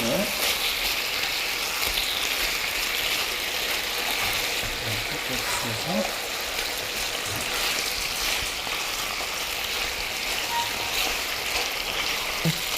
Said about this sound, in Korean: 이렇게 해서 이제 고기를 지지잖아요